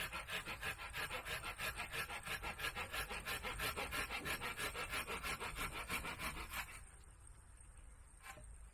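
Hand saw trimming a piece of wood at a shelter build, a steady, rapid back-and-forth rasp of strokes close by that stops near the end.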